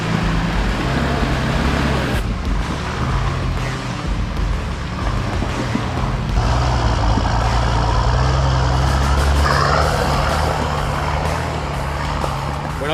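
A vehicle climbs a loose dirt track in Toolangi, its engine droning steadily with continuous rumble and crunching from the wheels, loud and close throughout with no break.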